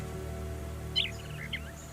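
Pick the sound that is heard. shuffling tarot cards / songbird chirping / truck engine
songbird chirping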